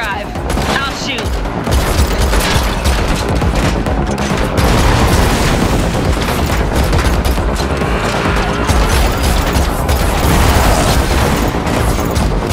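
Sustained gunfire from a car chase in The Matrix Awakens, an Unreal Engine 5 game experience, with dense, continuous loud bursts and booms over engine rumble throughout.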